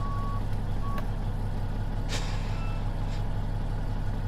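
A semi-truck with an 840-horsepower Cat engine in Euro Truck Simulator 2 rumbles at a low steady idle, with a few short beeps and a brief hiss of air partway through.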